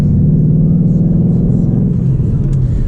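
Ford Coyote-engined car driving and accelerating on a road, a steady loud low engine rumble with a continuous drone and slight rising revs throughout, no talking.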